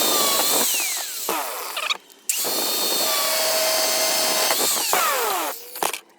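On a Volkswagen Passat PD150, a power tool whines as it undoes a nut on a car part. The close, high-pitched bursts rise and fall in pitch, with short pauses between runs.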